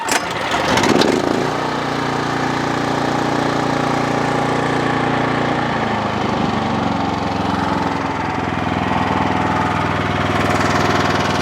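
A rusty, neglected Ariens Pro snowblower engine runs steadily after starting, a loud continuous mid-pitched idle with a slight knock, holding even for the whole stretch with no one speaking.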